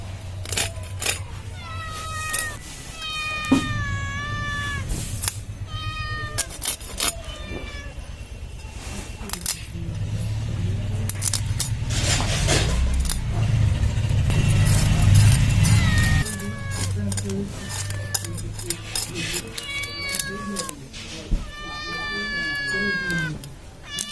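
A cat named Mini meows repeatedly, close by, while fish are being cut, with talking and kitchen noise between the cries.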